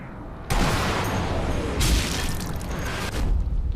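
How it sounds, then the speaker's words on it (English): An explosion in the video game Sniper Elite V2 erupts as a sudden loud, broadband blast, rumbles on, then swells again in a second roaring burst, with sustained crackling noise carrying to the end. "I'll just have to wait for that explosion to"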